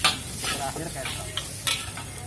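Soy sauce hits stir-fried Javanese noodles in a hot pan, giving a soft, fairly quiet sizzle with brief bursts of hiss and light scraping of stirring.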